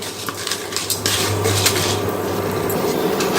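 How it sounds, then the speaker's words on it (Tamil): Lentils and dried chillies roasting in a pan on the stove, with a steady sizzle and light scraping and metallic clinks of a utensil stirring against the pan, close and moderately loud. "பருப்பெல்லாம் செவக்க வறுபட்டு வரட்டும்."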